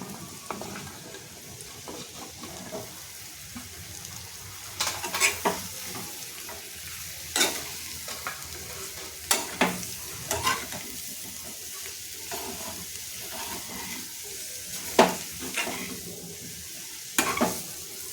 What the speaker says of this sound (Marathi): इथे दोडक्याची भाजी जी आपण कट करून घेतलेली आहे ते टाकून आपण परतून घ्यायचे आहे